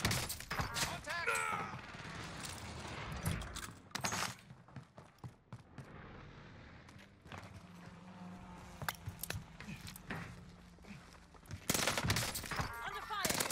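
Gunfire in the video game Warzone 2 during a battle royale match, repeated sharp bursts and single shots crackling at varying distances, some loud and near, with faint footsteps and movement between volleys.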